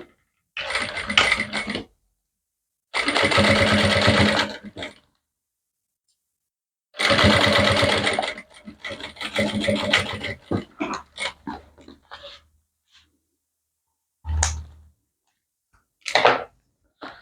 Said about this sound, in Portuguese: eu vou costurar um pezinho de máquina